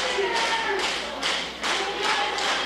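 Wrestling crowd clapping in steady rhythmic bursts as Gabe the Brave warms them up, a dense, close wash of hands beating roughly twice a second, with no talk over it.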